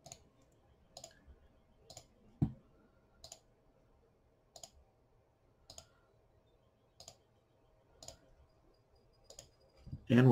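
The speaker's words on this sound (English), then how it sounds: "And then we can just click each one of these and export that as an STL." A computer mouse clicks while STL files are exported one by one from a Tinkercad design: about ten crisp, evenly spaced clicks roughly a second apart in a quiet room, ending with a louder burst.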